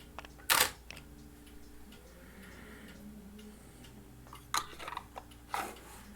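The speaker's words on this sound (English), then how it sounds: "I'm using my remote shutter release to set the shutter off." A camera shutter fired by a remote release clicks sharply near the start, then two more shutter clicks follow several seconds later with a quiet pause between them. The shots are at f8, ISO 100, and there is no talk.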